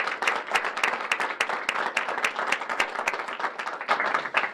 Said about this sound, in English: Let's have a round of applause for the teachers here at Carbondale High School